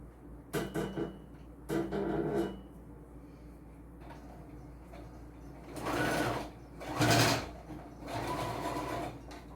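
Sewing machine stitching a finishing strip onto fabric, right sides together, for a multipurpose travel wallet: three short bursts of stitching followed by three longer, louder runs, close by with brief pauses between.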